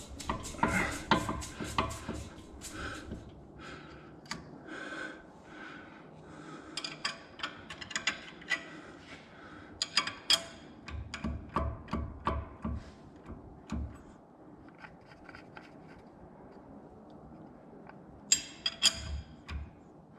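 Ring and pinion gears of a 2008 Shelby GT500KR 8.8 rear end, rotated by hand during a rebuild, give close, irregular metallic clicks and light clatter, with brief louder ticks toward the end and no talking.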